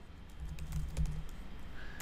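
Computer keyboard keys clack in a quick, steady run of close, soft taps while Python code for Selenium WebDriver is typed, with no voices.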